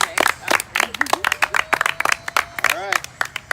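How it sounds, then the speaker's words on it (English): An audience at a Survivor-style vote reveal in Irvine gives a final round of applause: crisp, uneven claps come in bursts while voices talk and cheer over them nearby. "Can I get a final round of applause?"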